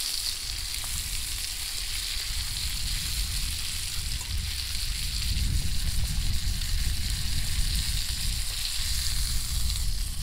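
Steak frying in a pan, a loud, steady sizzle and crackle of hot fat that swells slightly partway through, close and continuous with no talking.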